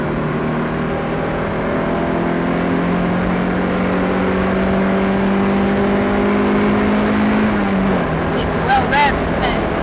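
A loud car engine drones steadily on the Knockhill race track, pitch climbing then dropping at a shift up to fourth gear, while someone talks over it.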